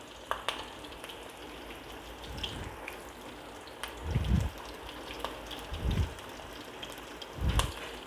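Chicken pakoda pieces cook in a shallow layer of oil, giving a quiet, steady crackle and patter broken by a few soft low thuds, with no one speaking.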